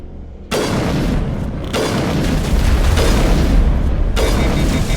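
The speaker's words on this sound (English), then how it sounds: "See if that grenade blows up that guy's butt." A grenade explosion in the Mass Effect Legendary Edition video game, a loud sudden boom followed by sustained heavy rumbling blasts and further bursts, very close and overpowering.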